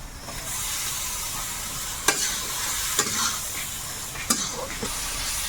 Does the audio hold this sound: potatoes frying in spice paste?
yes